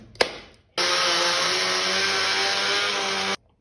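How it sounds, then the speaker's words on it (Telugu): An electric mixer grinder whirs steadily as it blends protein shake powder, a loud, even motor drone lasting about two and a half seconds after a brief knock, then cutting off abruptly. "దీన్ని ఇప్పుడు మిక్సీ పట్టాలి, మొత్తం పౌడర్ లెక్క చేయాలి"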